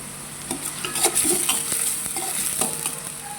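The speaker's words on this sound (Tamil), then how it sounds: "ஆயில் சூடானதும் அதில் வெங்காயத்தை சேர்த்து வதக்கிடும்." Onions sauté in hot oil in a kadai on a stove, a continuous bright sizzle with a spatula scraping and stirring throughout, close and fairly loud.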